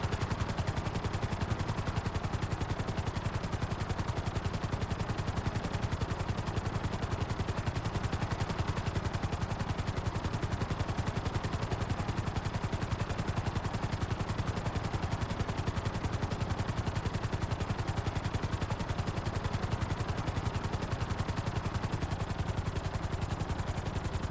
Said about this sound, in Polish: Tam jest helikopter, a tutaj my lecimy.